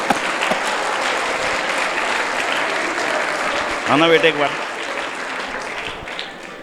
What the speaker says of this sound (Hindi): एक बार इसके लिए तालियां बजा दो।